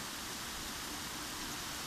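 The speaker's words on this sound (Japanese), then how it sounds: "じゃあ水かけるよ" Water sprays onto a car's body during a glass coating test, a steady, hissing wash of rain-like noise with no voices.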